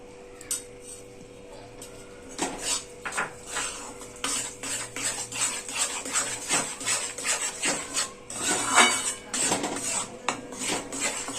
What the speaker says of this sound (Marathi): आपल्याला खरपूस असं छान पीठ भाजून घ्यायचं आहे.